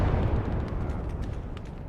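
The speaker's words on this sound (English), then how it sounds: "Massive explosion." A massive explosion rumbles in a Gates of Hell: Ostfront battle, opening loud and broadband before a deep low roar slowly fades over about two seconds, with no voices.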